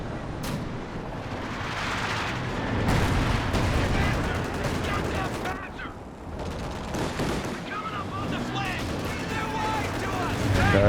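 Strafing run gunfire from a World War II real-time strategy match, with rolling bursts of shots and rumbling booms filling a dense, continuous battle din. A commentator talks over the noise throughout.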